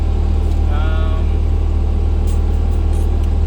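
A Bobcat machine's engine runs loud and steady at close range as the throttle is raised, a constant low drone that climbs only slightly, with a person talking briefly over it.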